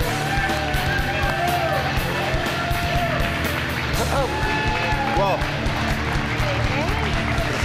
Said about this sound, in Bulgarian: Вашите аплодисменти за Ваня!